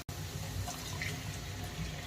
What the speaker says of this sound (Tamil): இப்போ இப்படியே கொஞ்சம் தண்ணி ஊற்றிட்டு மூடி வச்சிடலாம்